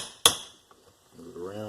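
A single sharp metallic tap rings out as a hammer strikes a socket to drive the bearing out of a brake rotor on a 1997–2000 Dodge Ram 1500, then a short quiet and a voice starting to speak.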